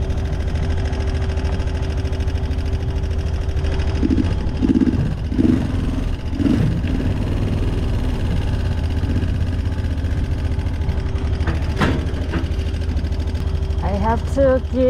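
Small motorbike engine running steadily through a driving-licence test in China, climbing a slope with a little throttle added; a continuous low hum throughout, with faint voices and a brief higher whine near the end.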